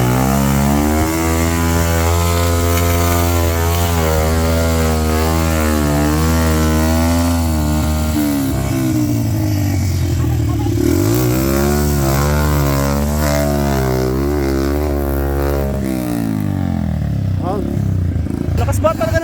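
Honda CRF dirt bike engine on a rough trail, revving hard and close with rising and falling pitch as the throttle opens and eases. A voice is heard over the engine.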